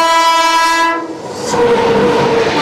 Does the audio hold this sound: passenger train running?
yes